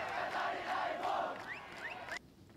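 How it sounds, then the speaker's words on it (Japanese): A crowd at a high school sports day cheers and shouts loudly together during a rice-bale lifting contest, a sustained roar of voices with a few whoops, cutting off abruptly near the end. "会場からは大きな声援が送られていました"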